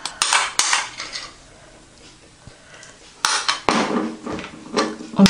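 Spoon stirring crème fraîche into a pot of creamy zucchini soup, giving loud clinks and scrapes against the pot in two clusters with a quieter stretch between them.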